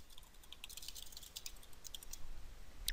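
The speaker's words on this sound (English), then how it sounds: "you just type in your question" Light typing on a computer keyboard gives soft, scattered key clicks in irregular bursts, faint and close against a quiet room.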